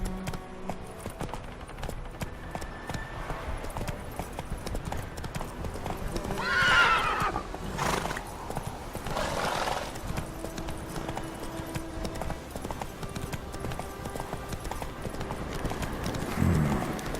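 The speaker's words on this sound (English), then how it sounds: "Run, Roach" Hooves of the horse Roach in The Witcher 3 clip-clop steadily at a gallop throughout, with a brief whinny partway through over a continuous game ambience.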